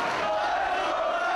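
A wrestling crowd in a Manhattan arena roars and shouts in a dense, sustained wall of noise as fans turn on Nigel McGuinness during an ROH world title match against Bryan Danielson.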